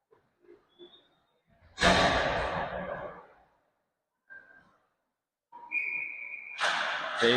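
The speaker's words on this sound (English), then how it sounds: "We'll have a whistle." A referee's whistle at a youth 15U ice hockey game between the Spartacats and Fergus Falls shrills in two long blasts with shorter tones between, over loud rink noise and crowd.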